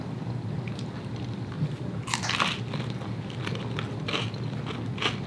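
Someone bites and chews crunchy air-fried sweet potato nachos up close, with a loud crisp crunch followed by several softer crackling chews.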